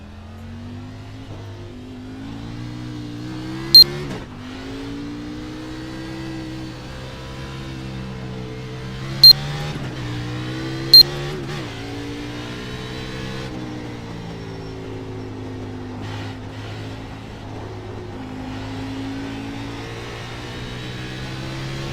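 A race car engine in the GenX racing sim revs and climbs through gears, a steady buzzing drone rising and falling in pitch across the stretch, with three sharp clicks along the way and no talk.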